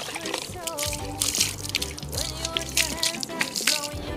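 Water is poured and dribbles over a Tibetan Mastiff puppy during a bath, a close, continuous trickling and splashing with a few drips, while a voice speaks intermittently over it.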